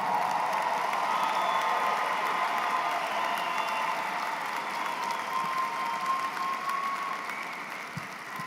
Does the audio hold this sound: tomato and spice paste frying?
no